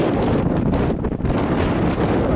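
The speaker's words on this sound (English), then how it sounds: "The wind, it's very windy" Strong wind buffets the microphone in a steady, heavy roar throughout on the hilltop at Whitby Abbey, with no voices.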